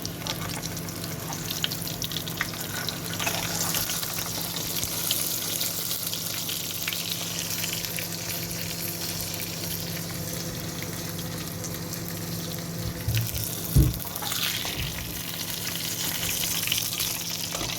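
Fish for a traditional Jaffna fry sizzles steadily in hot oil, a constant close crackle with occasional louder spits and clatters near the end, and no talking.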